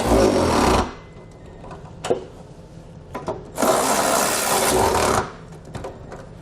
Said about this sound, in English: We can now go back and tighten down our hardware.